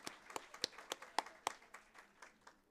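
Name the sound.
audience applause at graduation ceremony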